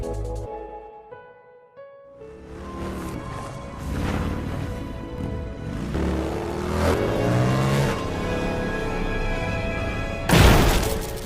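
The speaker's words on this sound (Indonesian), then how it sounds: "Kurt memutuskan untuk melompat menggunakan motor yang dia bawa" A motorcycle revs up for a jump in a horror film scene, the engine rising and building under a dramatic score and ending in a sharp crash-like burst.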